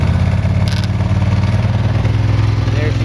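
Ducati ST2 motorcycle engine running on choke just after starting, a steady close idle with a low pulsing rumble throughout.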